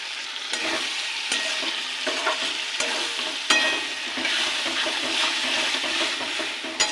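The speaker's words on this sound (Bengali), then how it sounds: "এটাকে ভালো করে কষিয়ে নেব।" Spice paste with ground tomato, salt, turmeric and roasted cumin sizzles with gathi kochu taro in a pan, a steady close frying hiss broken by repeated clacks of a spoon stirring against the pan.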